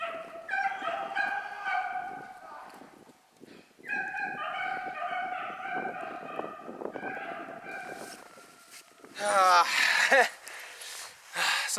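Beagle hounds bay and yelp in overlapping bursts while chasing a hare, the baying rising in loud, rhythmic volleys with a sharper, closer yelping flurry near the end; someone speaks between bursts.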